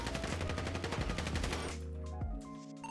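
Dense rapid gunfire rattles through a shootout with police in GTA, a continuous automatic barrage of loud close shots that stops abruptly, leaving lingering tones and a final thump.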